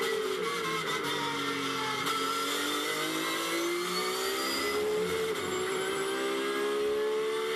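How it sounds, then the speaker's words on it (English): A GT race car on the Imola circuit, its straight-cut racing gearbox letting out a high, sliding whine over the engine as it pulls up toward Tosa, steady and prominent with no talk. "Just straight cut gears in the gearbox, and that's the noise that they all seem to produce."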